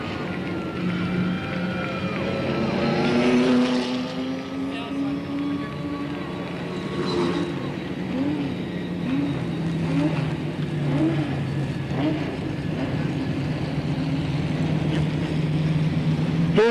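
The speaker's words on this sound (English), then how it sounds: "As cars circle a speedway to try to cool down the motors before they get shut down for the evening." Late model race cars circling Slinger Speedway at night to cool their motors after an 85-lap feature, engines droning and rising and falling as they pass, with a commentator talking over the steady motor noise.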